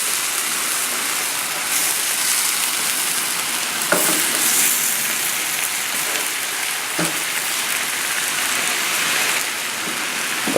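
Vegetables and rice sauté in a wide pan over a high gas flame for shrimp with fried brown rice, giving a steady, close, dense sizzle throughout with a few brief clinks and stirring knocks, and no talking.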